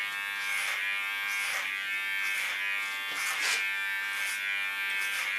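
Electric hair clipper cutting hair with no comb attachment, taking the sides down short on a punk hairstyle; a steady high buzz with repeated brief bursts as strokes pass through the hair, close up and without talk.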